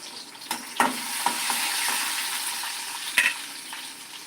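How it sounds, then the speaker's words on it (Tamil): Chopped onions sautéing with a little salt in a pan for a Tamil chickpea kuzhambu give a steady, close sizzle, broken by a few sharp clicks and scrapes of a stirring spoon, with no voices. "வெங்காயத்தை போட்டு நல்லா வதக்கணும்."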